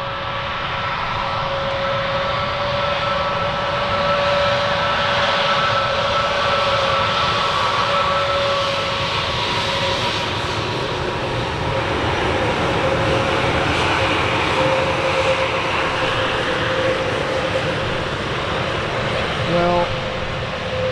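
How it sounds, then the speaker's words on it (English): An Airbus A321 rolls along the runway at Frankfurt Airport, its engines a loud, continuous roar with a steady whine running through it, holding strong for the whole stretch. "After this A321 has passed by"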